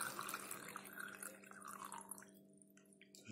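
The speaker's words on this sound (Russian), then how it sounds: "Кстати, мне водички надо подлить." Settled or filtered water trickles and drips as it is poured to top up a glass holding a sprouting avocado seed, a soft, faint, close splashing that eases off toward the end.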